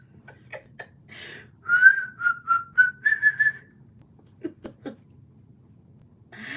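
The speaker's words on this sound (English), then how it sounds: "Some people can really, really whistle and they sound so majestic." A person whistles a short wavering tune of several notes, with breathy puffs and small clicks before and after, close to the listener.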